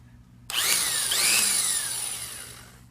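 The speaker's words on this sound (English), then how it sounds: "do a drill powered brake stand on sandpaper" A handheld power drill spins a foam RC car tire against sandpaper, starting abruptly and whining up to speed with a close, rising rasp and a scraping grind that slowly fades over a couple of seconds.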